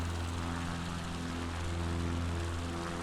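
A propeller plane drones steadily in MS Flight Simulator, a constant loud engine hum with a low rumble and broad hiss throughout, no voices.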